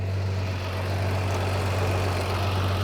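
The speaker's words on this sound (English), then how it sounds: "But the car is idling and it is so smooth." A 1969 Toyota Land Cruiser FJ45 engine idles steadily and smoothly with a constant low hum, close by and continuous, with no talking.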